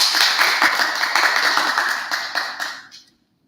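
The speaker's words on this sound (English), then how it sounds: "Let us welcome with big round of applause, Miss Lisa Cha." An audience at a public speaking event applauds to welcome a speaker on stage, a full round of crowd clapping that holds steady, then thins and stops abruptly near the end.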